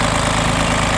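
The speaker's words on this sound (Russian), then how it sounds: "Трактор трехцилиндровый, дизелек работает ровно, тарахтит хорошо." A three-cylinder ISEKI SIAL19 diesel mini tractor idles steadily with its hood open, a close, even low chugging rattle running without a break.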